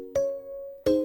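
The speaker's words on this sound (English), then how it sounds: "we have our bell pluck" A bell pluck synth in a Logic music session rings two bright, sustained tonal notes, the second struck just under a second after the first, clean and alone.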